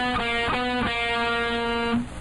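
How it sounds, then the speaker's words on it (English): Electric guitar fill from a song, played alone as a few quick struck notes and then one sustained ringing note that cuts off near the end. "Okay, you may have noticed a fill coming out of the chorus back into the verse"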